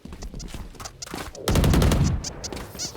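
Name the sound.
gunfire in the video game Valorant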